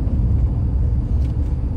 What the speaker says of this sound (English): Dude, the size of the pickup trucks out here, you see that thing?